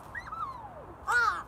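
A crow caws twice with no other sound: first a long, drawn-out call that slides downward, then a shorter, louder and harsher caw close by.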